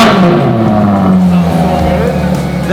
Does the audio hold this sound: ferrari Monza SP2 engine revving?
yes